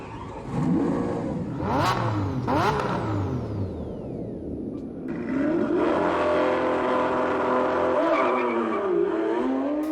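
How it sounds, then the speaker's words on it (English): A Lamborghini Aventador V12 engine revs hard in sharp bursts, climbing to shrill peaks and dropping back, then settles into a sustained, loud high-pitched roar as it accelerates away, with no talk over it. "An Aventador makes such a unique sound, you can hear it coming from a mile away."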